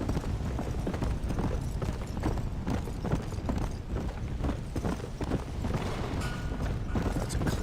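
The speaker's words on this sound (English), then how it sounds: "My horse refuses to go fast because I'm not on a road." Hooves of a horse clip-clop steadily off-road across rough ground in a video game, a continuous rhythmic trotting patter heard close and moderately loud throughout, with no voices.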